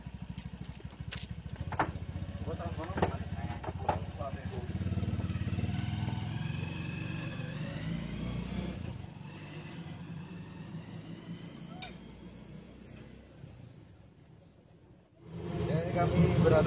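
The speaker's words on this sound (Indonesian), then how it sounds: "Jadi kami berada di dalam 3 roda." Steady engine drone and road rumble from inside a moving three-wheeled motor vehicle, with people talking over it throughout and the engine note rising again near the end.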